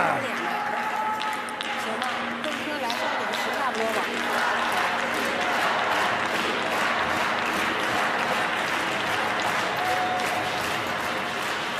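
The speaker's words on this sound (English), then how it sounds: "Crowd urging their teams on." A crowd at a China versus Italy wheelchair curling mixed doubles match in Milano Cortina claps and cheers in a sustained, rhythmic roar, with voices mixed in throughout.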